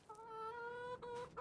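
A chicken clucks and crows in Farming Simulator 22, a single drawn-out harmonic call that breaks into a couple of short clucks at the end, clear and alone with no talk.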